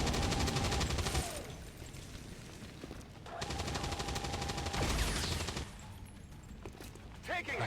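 Sustained automatic gunfire from suppression fire in XCOM 2 Long War of The Chosen, rapid bursts in two long stretches with a brief lull between, loud and close.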